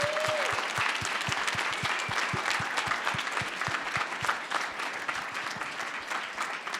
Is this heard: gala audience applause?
yes